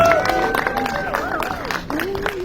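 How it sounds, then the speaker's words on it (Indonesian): Applause from the audience at a film press conference, scattered claps with crowd murmur and voices talking over it, moderately close and fairly loud throughout. "Tepuk tangan dong teman-teman."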